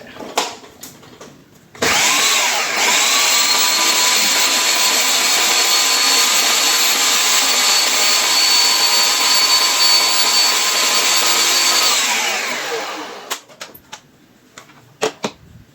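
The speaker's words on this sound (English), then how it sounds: "so we got all that blended together there" A blender whirs steadily for about ten seconds, blending a mushroom burger patty mixture with grapeseed oil; the loud motor drone starts abruptly and winds down at the end, with quiet handling noises before and after.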